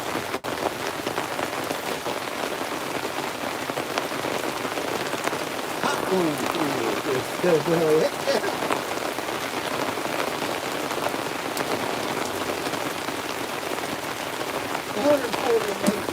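Steady rain patters on surfaces outdoors during gold sluicing, a constant close hiss, with someone speaking briefly over it.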